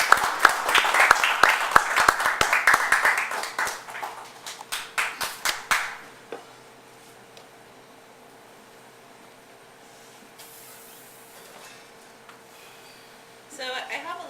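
Audience applause welcoming poet Sarah Page: a dense burst of clapping that thins into scattered claps and stops around six seconds, followed by a quiet room and faint movement.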